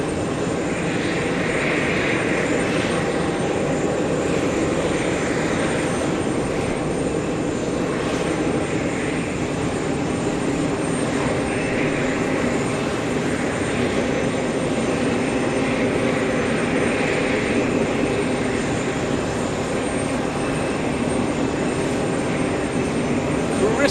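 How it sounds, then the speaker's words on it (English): An Air France Boeing 777 departs JFK from runway 13 right, its jet engines giving a steady, continuous roar heard at moderate distance for the whole stretch, with faint talk underneath. "As Joshua zooms into Air France 777 leaving via 13 right."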